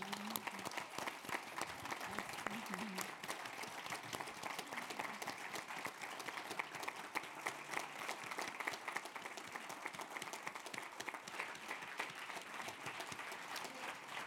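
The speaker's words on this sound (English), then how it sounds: "Please join me in giving a round of applause to our panel today." A seated audience claps for a discussion panel, a fairly faint, sustained patter of many hands with occasional louder claps and a faint murmur under it.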